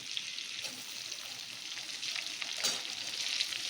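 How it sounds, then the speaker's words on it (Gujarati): Chopped onions, green chilli and ginger sizzle steadily on a hot tawa for Mumbai-style tawa pulao, a continuous close frying hiss with faint stirring, no voices. "1 મિનિટ માટે સાતળી લઈશું."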